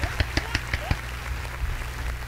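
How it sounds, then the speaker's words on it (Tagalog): A small group claps in a quick, regular burst of about half a dozen sharp slaps, then scattered fainter claps and a little background chatter. "Palakpakan namin kayo."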